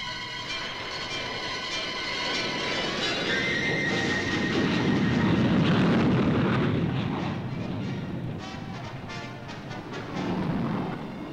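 Supersonic tactical fighter jets roar overhead during a military exercise, a loud broad rushing thunder that swells to a peak and fades, with a high whining tone sliding through early on.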